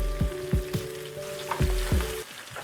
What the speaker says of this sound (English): adding some thinly sliced onions and some green chilies